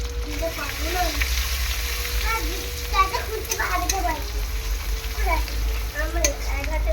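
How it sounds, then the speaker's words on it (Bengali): Ground spices including turmeric, chili powder and cumin powder frying in a pan for a bitter gourd dish, with a continuous loud sizzle and scraping stirs; a voice talks faintly underneath. "দিয়ে মশলাটা ভালো করে কষিয়ে নেবো"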